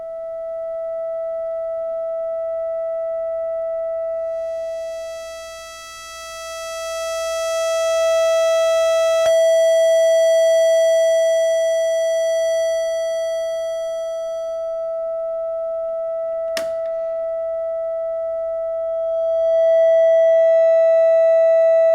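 A steady, pure sine wave tone from a Buchla Music Easel synthesizer oscillator held continuously, loud and clean, with a couple of faint clicks and a buzzier layer fading in and out.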